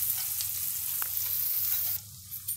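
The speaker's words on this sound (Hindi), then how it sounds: "इसमें डालेंगे प्याज कटी हुई, इसको हमें ज़्यादा ब्राउन नहीं करना, बस हल्के से लाइट ब्राउन करना है।" Chopped onion sizzles and fries steadily in oil with spices in a pan for an aloo gobhi sabzi, a continuous close crackle with a brief stir near the middle and a slight drop toward the end.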